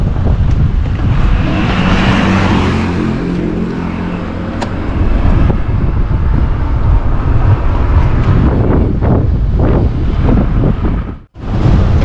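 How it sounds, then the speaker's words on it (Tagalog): Strong sea wind roars and buffets steadily against the microphone, a loud continuous rush with low rumbling and a brief drop near the end. "Lakas ang hangin dito guys kasi malapit kami sa dagat."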